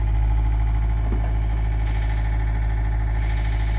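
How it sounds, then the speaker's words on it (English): An excavator's diesel engine running steadily at low throttle, a constant close-up drone with a deep rumble and no pauses throughout. "Grandpa on the excavator."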